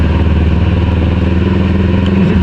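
A Kawasaki Ninja 650 idles close up during heavy flood rain, giving a steady, loud, even rumble with a slight clattering texture. No one speaks.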